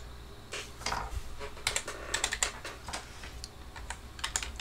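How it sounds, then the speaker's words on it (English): Quick bursts of keystrokes on a computer keyboard as a command is entered, close and fairly crisp, uneven clicking with short pauses and no talking. "Type in assign, press enter"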